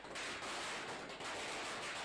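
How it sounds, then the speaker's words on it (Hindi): Firecrackers go off at an election victory celebration, a dense crackling burst of rapid pops that keeps up with only brief dips. "और देखिए ये किस तरह से पटाखे जो हैं वो बजाए जा रहे हैं।"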